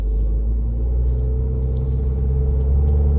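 A Mitsubishi Evo X with an SST transmission in first gear gives off a deep, steady engine rumble from close by, a constant low drone that barely changes pitch and carries no speech.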